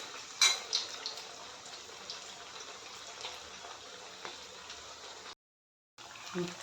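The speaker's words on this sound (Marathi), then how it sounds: "अशा तऱ्हेने आपण हे आता वडे चांगले तळून घेऊया।" Sabudana vadas deep-frying in hot oil, a steady sizzling hiss with scattered pops and bubbling, close and moderately loud, briefly cutting to silence before the frying resumes.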